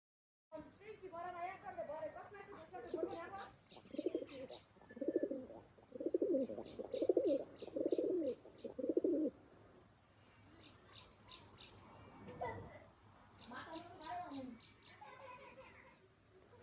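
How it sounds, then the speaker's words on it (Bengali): Pigeons at a village home cooing while they eat scattered feed, a run of rhythmic throaty coos up close, with people talking nearby. "তো এই যে কবুতরগুলো খাইতে দিছি, ওরা খাইতেছে।"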